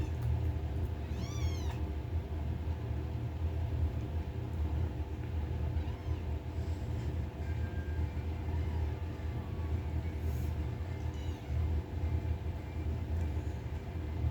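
Hungry young kittens searching for their mother let out a few faint, scattered meows across a long stretch of constant low rumble, with no voices.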